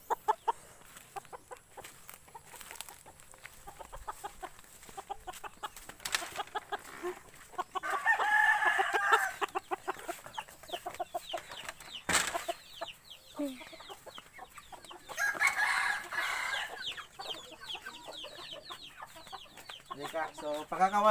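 Bantam chickens cluck and a rooster crows nearby, fairly quiet, with scattered rustling and some faint voices in the background.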